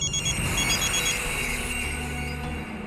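A mobile phone ringing in a Hindi drama series, a loud electronic ringtone with repeated bright tones that fades slightly toward the end, heard alone without speech.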